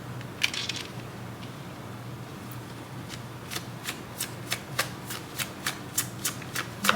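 Tarot cards are handled and dealt into piles: an early riffling flutter, then a run of crisp, evenly spaced snaps as single cards are laid down one after another, close and distinct, with no talking.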